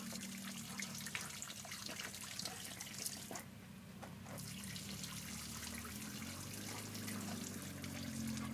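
Water pours steadily into a swimming pool with a constant, close trickling rush and a low hum underneath. The flow stays even throughout, with a brief quieter patch midway.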